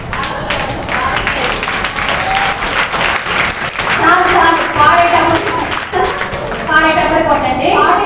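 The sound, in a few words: children clapping along to song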